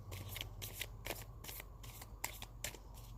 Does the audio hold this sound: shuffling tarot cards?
yes